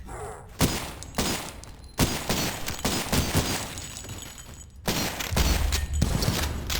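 Heavy gunfire in the retro shooter Cultic, shotgun blasts and rapid bursts booming repeatedly with short gaps, loud and dense, with no talk.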